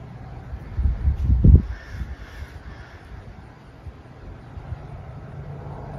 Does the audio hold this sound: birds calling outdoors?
yes